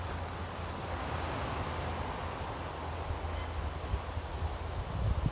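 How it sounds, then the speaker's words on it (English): Wind blows through woodland, a continuous broad rushing with rustling foliage and low gusting rumble against the microphone, steady throughout and slightly stronger toward the end. "the wind keeps on coming down, and it's pretty windy as well today"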